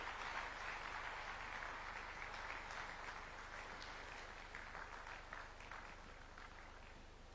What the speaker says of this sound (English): Another big round of applause for His Excellency.